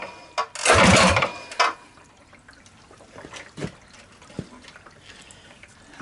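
Rebuilt Tillotson 212cc small engine firing briefly, a loud burst that sputters and dies, followed by scattered clanks and quiet handling noises.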